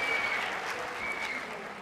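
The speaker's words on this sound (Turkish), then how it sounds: "Büyük bir alkış." Studio audience applause greeting the jury on a Turkish Popstar television talent show, a brief burst of dense clapping, loud and continuous, with faint cheering mixed in.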